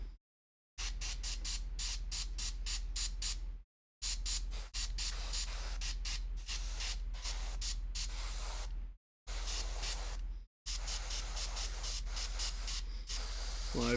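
An airbrush sprays paint onto a miniature bolt gun in repeated close, loud bursts of hiss, some quick and stuttering, others held for a second or more, with sharp silent gaps between them.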